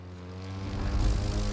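A propeller airplane engine drones in The Crew 2, a steady buzzing roar that swells louder over a second and a half, with no voices.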